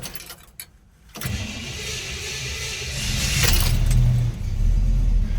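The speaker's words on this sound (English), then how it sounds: "I just give it a pump and then it starts right up" A 1965 Chevy El Camino cranks briefly and fires up from cold after a pump of the gas pedal, then settles into a close, steady idle that grows slightly louder.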